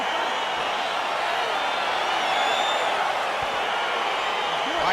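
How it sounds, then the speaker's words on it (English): Broad, steady crowd roar from a simulated UFC arena audience at T-Mobile Arena, excited noise filling the whole stretch at an even, loud level as a flyweight bout between Alexandre Pantoja and Brandon Royval begins. "crowd getting excited as this fight gets underway"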